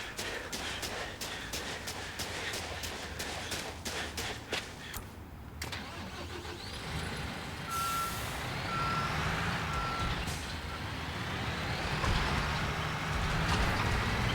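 A dump truck in the Construction Simulator video game gives a rapid series of reversing beeps, then its engine starts and rumbles on steadily, fairly close, with no talking.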